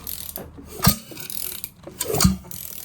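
Two slow mechanical cranks with ratchet clicks and a low heavy thump each time, close by, as the engine is turned over by hand, showing good compression.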